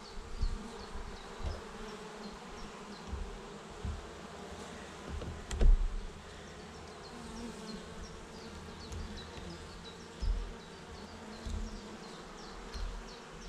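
Honey bees buzzing around hive frames as a beekeeper shifts them, a steady close drone with occasional knocks and handling thumps.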